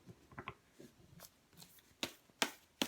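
Tarot cards being shuffled by hand during a reading, a series of quick riffling and slapping bursts that grow sharper toward the end, close up in a quiet room with no talk.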